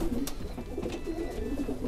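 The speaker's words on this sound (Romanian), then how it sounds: "Am pus în pereche tot în consanguinitate pe Emil Materne, porumbei de catriș" Soft, low pigeon coos repeat steadily throughout, a continuous murmuring of several birds close by with no talking.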